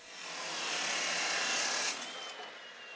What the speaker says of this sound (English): I cut some small angle iron to make little braces.